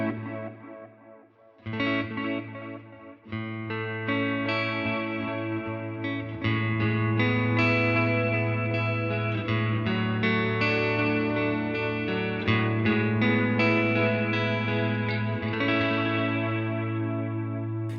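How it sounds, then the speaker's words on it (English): An electric guitar through a tape delay effect set to extreme wow and flutter, sustained chords and picked notes wavering in pitch with repeating echoes over a steady low drone, played alone. "I'm going to increase the wow and flutter in the mix so you can kind of hear what it sounds like in an extreme setting"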